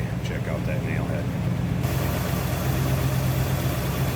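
A 1963 Buick Electra 225's nailhead V8 idles with a steady, low rumble that stays close and even throughout. A voice can be heard faintly at the start.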